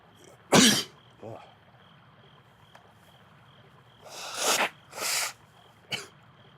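One loud, close sneeze bursts out during a game livestream, followed a little later by several more sharp bursts of breath or coughing over a faint steady hum.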